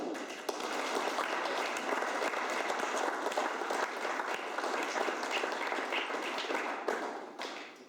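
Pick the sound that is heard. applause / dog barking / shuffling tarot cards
applause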